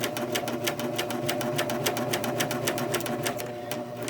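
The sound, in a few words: serger sewing and trimming seam of baby bib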